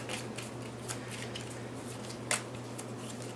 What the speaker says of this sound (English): We'll want to shuffle these up really well.